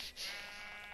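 A sheep bleats in the Minecraft video game, a single wavering, nasal bleat heard close and fairly loud over a steady background of game ambience.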